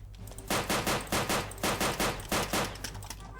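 A burst of about ten rapid gunshots in quick succession, loud and sharp over a low steady hum, weapon fire in the Roblox game Military Warfare Tycoon.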